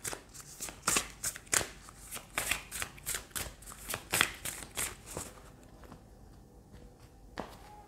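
A deck of Power of Love oracle cards being shuffled by hand, a series of crisp riffling snaps and slaps in quick rhythm, close and quiet, tapering off near the end.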